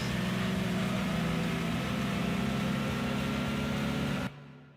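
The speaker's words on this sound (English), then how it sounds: "This car's engine sounds really nice." Steady droning car engine from the racing game Gran Turismo 2, heard during a Clubman Cup race, holding a constant even hum with no talk before cutting off abruptly near the end.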